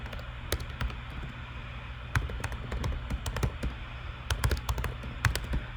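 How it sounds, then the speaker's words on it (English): Rapid, irregular clatter of computer keyboard keys as git commands are typed at a terminal, close and alone, with short bursts and pauses. "don't worry about what I'm typing"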